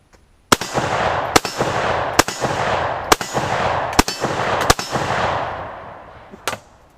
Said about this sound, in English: this is my last 10 rounds, and I'll burn through this AK-47